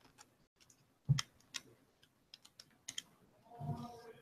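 A run of sharp keyboard clicks as numbers are keyed into a calculator for a logarithm problem, irregular taps close up and fairly quiet, with a soft murmur of background noise near the end and no talking.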